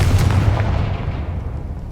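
Confringo fire spell explosion in the Hogwarts Legacy video game, a heavy booming blast with a deep rumbling tail fading over two seconds, loud and close, no speech.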